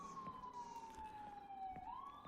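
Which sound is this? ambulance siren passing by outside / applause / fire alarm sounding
ambulance siren passing by outside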